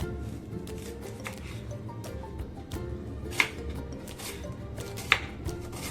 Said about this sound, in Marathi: हा कांदा असा मोठाच कापायचा आहे